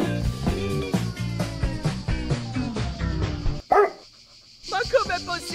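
A newly adopted pet dog barks in a rapid string of sharp, yappy barks, close and lively, mixed with people's voices, then breaks off to near silence before more noisy chatter returns.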